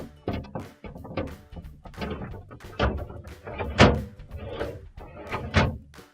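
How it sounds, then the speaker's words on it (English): A Maytag refrigerator crisper drawer on wheels being slid into its track, with a series of plastic thunks, scrapes and bumps spread unevenly over several seconds, close and fairly loud. "Now we're going to put our crisper drawers back in."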